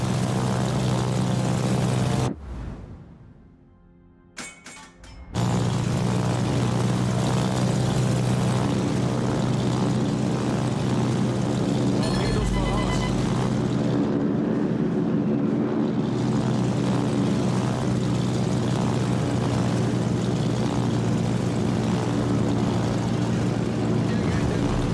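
Propeller planes from a German tier 6 aircraft carrier drone steadily in a World of Warships battle, a loud continuous engine roar that briefly drops away near the start before returning and holding.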